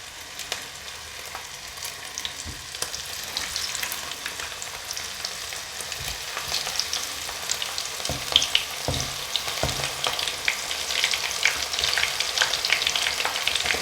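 Chillies frying in a pan of hot oil, a steady bright sizzle and crackle running the whole time and swelling louder toward the end, with occasional stirring clinks and no talk.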